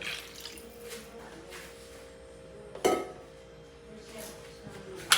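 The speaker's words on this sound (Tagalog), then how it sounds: "maglalagay na tayo ng tubig" Water poured into a cooking pot for chicken sinigang, a soft steady trickle with occasional clinks of metal or glass, quiet and close.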